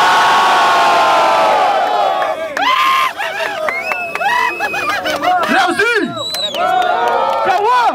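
A large crowd cheers, whistles and shouts loudly at a rap battle final in Barueri, São Paulo, a sustained roar with bursts of yelling and excited voices.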